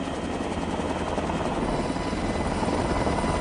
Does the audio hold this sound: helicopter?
yes